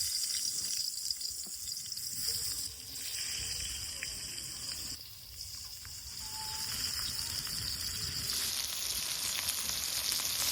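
Sliced ridge gourd frying in oil left over from frying eggs, a faint continuous sizzle with occasional clinks and stirring, quiet throughout.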